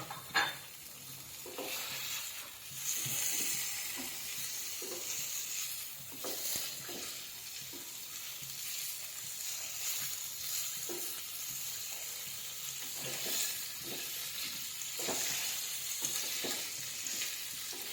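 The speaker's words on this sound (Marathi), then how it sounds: "हे चॉप केलेले पनीर आपण याच्यामध्ये फ्राय करून घेणार आहोत।" Chopped paneer frying in oil in a pan, a steady soft sizzle with repeated clinks and scrapes of a spatula stirring against the pan.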